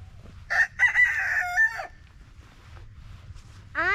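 A farm rooster crows loudly and close, a long harmonic call, followed after a pause by the start of another crow, over a low rumbling background.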